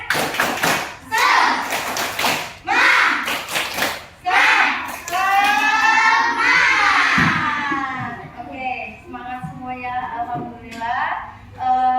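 Children in a classroom chant a rhythmic clapping cheer, sharp claps in bursts alternating with loud sung and shouted voices, the group clapping and chanting together.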